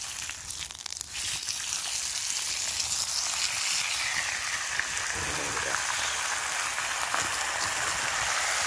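Bacon sizzling in a Petromax wrought iron skillet outdoors in a forest, a loud steady crackling hiss that holds throughout, with a brief rustle and soft handling noises at the start.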